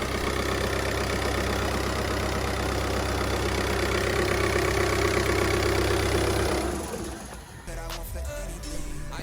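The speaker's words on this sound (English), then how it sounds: "it's time to start the car to get all the oil circulating around the engine and listen to her purring away." A car engine idles just after starting, a steady close low rumble with an even mechanical chatter, fading and turning quieter near the end.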